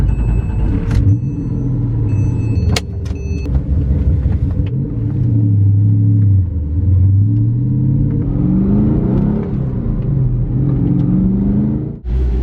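A 500 hp LS V8 swapped into a gold Porsche 911 rumbles loudly and close by, its deep idle rising and falling in pitch through several revs, with a few brief clicks early on and no talk.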